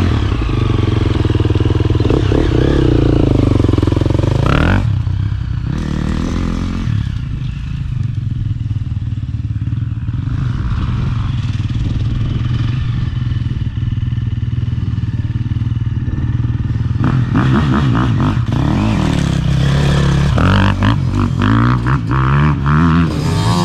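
A fuel-injected KAT 350 motorcycle rides past, its engine note swelling loud and close, then dropping back to a steady drone before rising again as it goes by. Scattered clatter and thuds sit under it, with no talk.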